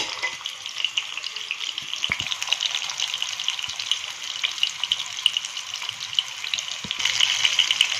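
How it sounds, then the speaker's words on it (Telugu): Stuffed bitter gourds frying in a little oil in a pan on low heat, a steady close hiss and crackle of sizzling that continues throughout and grows a little louder near the end, with no talk. "నాలుగు కాయలు వేసి వేపుకోవాలి కొద్ది కొద్ది కొద్దిగా నూనె వేసి ఎక్కువ వేయకుండా"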